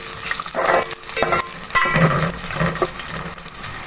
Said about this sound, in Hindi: अब प्याज को हम हल्की आंच पे ब्राउन कर लेंगे।